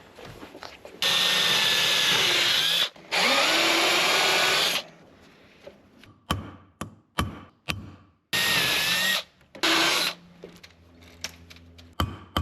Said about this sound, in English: then we'll go back through and re-drill the rest